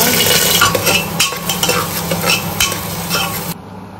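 Whole spices, including bay leaf, cardamom, black pepper and cumin, sizzle loudly in hot oil in a pressure cooker, a dense continuous crackle with stirring and scraping throughout and no talk.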